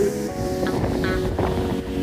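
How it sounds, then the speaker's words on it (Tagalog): Strong typhoon wind roars and buffets the microphone steadily, with a dense rushing noise throughout. "Malakas ang hangin."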